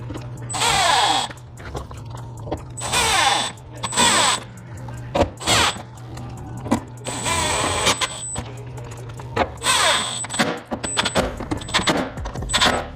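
A power drill drives screws through an LED subwoofer ring into a speaker box, in several loud, close whirring bursts of a second or two each, separated by short pauses and light clinks of handling.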